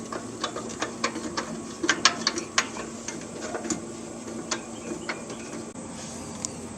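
A lift kit bolt being screwed in during an engine pulley swap, a run of quick irregular metallic ticks and ratcheting clicks, close and fairly crisp over a low background hum.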